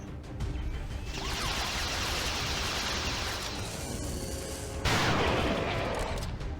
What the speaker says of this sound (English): let's shoot at this Advent Grenadier